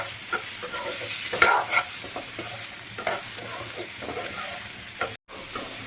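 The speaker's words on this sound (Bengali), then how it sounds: "এবার এটাকে আবারও ভালো করে নাড়াচাড়া করে নিতে হবে" A spatula keeps stirring spice masala frying in a pan for a raw mango bhola fish curry, giving a steady close sizzle broken by scraping strokes, with no talking.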